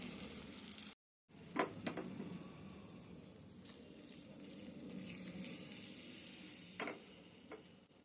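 Mushroom fry sizzling gently in a pan on a stove on low heat, a faint steady crackle with a few sharp ticks and utensil clinks, no talking.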